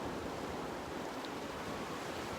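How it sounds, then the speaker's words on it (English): Ocean waves in an echoey chamber: a faint, continuous broadband wash of surf with no distinct breaks, steady throughout and free of speech. "there's waves coming from this direction and waves coming from this direction"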